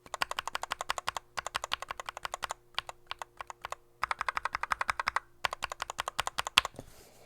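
Rapid typing on a keyboard fitted with Tangerine tactile switches: crisp, even clacking keystrokes in quick bursts separated by short pauses, close and clear with no voices.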